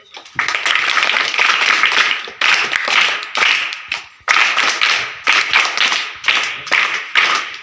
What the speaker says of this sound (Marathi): हे टाळ्या होता